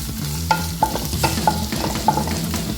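Curry leaves are added to hot oil in a pan and fry with a loud sizzle, while a spoon stirs with a regular, rhythmic scraping and tapping.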